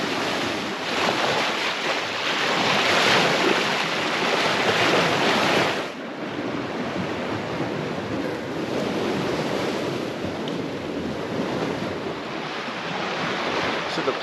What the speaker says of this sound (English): you can enjoy the wind and the waves